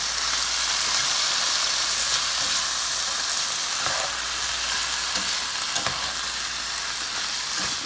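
Thin beef slices brown in a pan for a stir fry with a loud, steady sizzle and hiss from start to finish, close up and with no talking.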